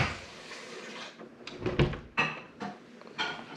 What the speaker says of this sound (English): When I close it with these new doors, they click.